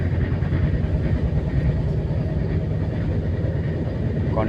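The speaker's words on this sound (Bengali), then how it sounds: "ট্রেনটা সাইড দিয়ে যাচ্ছে" A train runs alongside the sea during heavy rain, its continuous low rumble and rattle steady and fairly loud throughout, with no clear speech.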